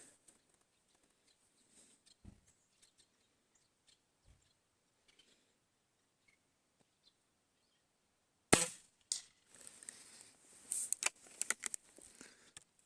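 A Shanghai B1-1 air rifle firing 0.45 g pellets gives a few faint early pops, then a loud sharp crack followed by another, with scattered clicks and handling noise afterward.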